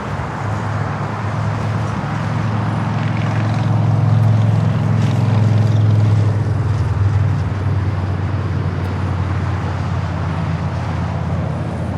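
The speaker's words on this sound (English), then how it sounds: "American Dreamliner arriving on the north side" American Airlines Boeing Dreamliner arriving at LAX on the north side, a loud, steady low jet roar that swells slightly mid-pass and holds, heard from a distance with no talking.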